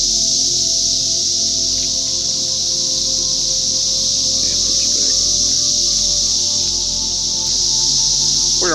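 A Brood X cicada chorus in Ohio, heard as a constant high-pitched shrill drone filling the air around a cemetery, steady and even throughout, with faint footsteps and rustling below it.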